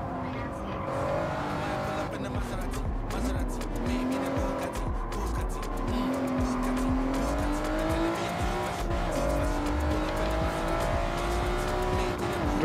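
A 2002 Honda NSX Type R race car in Gran Turismo at Mount Panorama, its engine holding a loud, continuous whine that rises and falls with gear changes, with tire squeal over the top.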